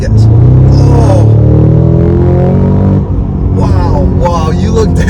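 A 2022 Cadillac CT5-V Blackwing accelerates hard, heard from inside the cabin as a loud, close engine roar that climbs steadily in pitch, with a brief voice over the end.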